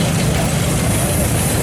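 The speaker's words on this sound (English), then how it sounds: "We have a 1936 John Deere BR" A 1936 John Deere BR tractor engine runs at an old-time threshers reunion, giving a loud, continuous low rumble throughout with no talk.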